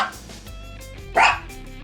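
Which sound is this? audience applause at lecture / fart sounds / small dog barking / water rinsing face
small dog barking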